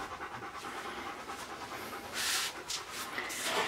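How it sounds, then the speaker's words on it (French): A dog panting indoors in the heat, rapid rhythmic breaths close to the listener, growing louder and harsher toward the end. "Il arrête pas de haleter."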